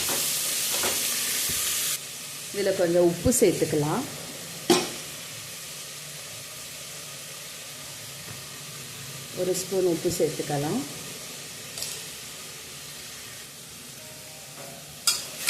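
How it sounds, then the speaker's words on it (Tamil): Tomatoes sauté in a pan for a mutton gravy, with two bursts of stirring and scraping and a steady sizzle underneath, while someone talks. "தக்காளி, இதெல்லாம் போட்டு நல்லா வதக்கிடுவோம்."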